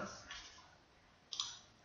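A single sharp key click at close range as the enter key is pressed on a computer keyboard while formatting a research paper in Word, heard alone against faint room tone.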